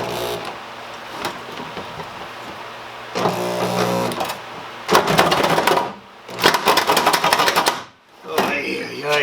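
A cutting tool chews through a small rusty flange on a G-body Cutlass car body, giving loud rapid chattering bursts that stop and start in separate runs.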